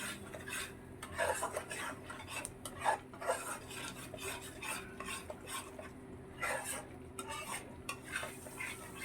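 Coriander powder being stirred into rui fish korma in a pan, a spoon scraping and stirring in steady repeated strokes, with faint clinks of metal against the pan and a soft background hum.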